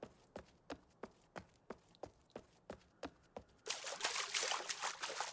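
Footsteps tap steadily through a quiet game space in Uru: Ages Beyond Myst, then a soft, continuous trickle of water rises and carries on at moderate level.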